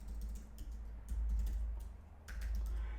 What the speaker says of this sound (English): let me type this properly.